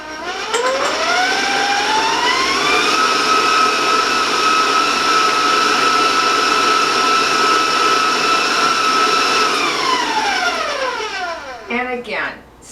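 An electric mixer blends cookie dough with vanilla in a mixing bowl, its motor whining up to speed and then holding a loud, steady hum before winding down near the end.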